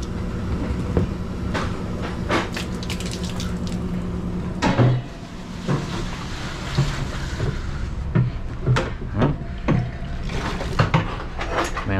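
Water runs from a tap during a deep clean of a Hoshizaki commercial ice maker, a loud close rush and splash broken by clanks and knocks of parts being handled, with no speech.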